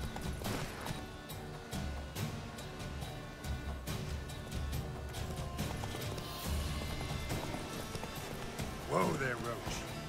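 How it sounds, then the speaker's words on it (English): Horse galloping in The Witcher 3 video game, rapid hoofbeats running steadily under game music and ambience throughout, with a man's brief spoken line near the end. "Whoa there, Roach."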